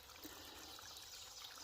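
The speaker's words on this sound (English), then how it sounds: "The pipe flowing from this natural stream, and it is a perfect little water source." Water pours steadily from a pipe fed by a natural stream at a trailside spring, a continuous soft trickling and splashing that stays faint and even throughout.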